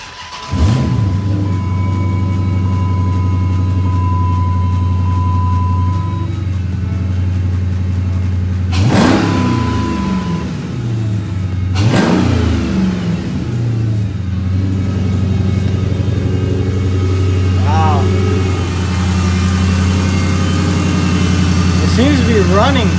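Dodge Charger SRT8 with a 6.1L HEMI V8 and new spark plugs, cranking to life close by, then settling into a deep rumbling idle, broken by two sharp throttle blips and a couple of smaller revs, with voices underneath.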